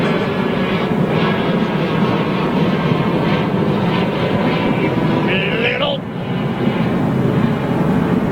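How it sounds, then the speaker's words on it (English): A British Airways Airbus A380 departs London Heathrow bound for Los Angeles, its steady broadband engine roar filling the scene at moderate distance, with voices talking over it throughout. "flying out to Los Angeles on a BA 380"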